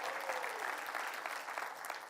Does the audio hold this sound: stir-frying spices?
no